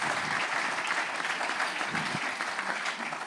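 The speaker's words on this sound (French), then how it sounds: "Ah, vous pouvez l'applaudir." Audience at a parasport conference applauds a double world champion, steady dense clapping filling the room for a few seconds without speech.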